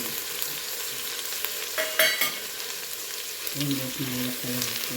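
Onions crackle and sizzle in a pan as they brown, a steady close frying hiss with occasional stirring scrapes and clatters, no voices.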